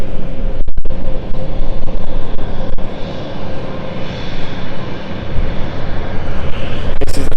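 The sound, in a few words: British Airways CityFlyer plane taking off at London City Airport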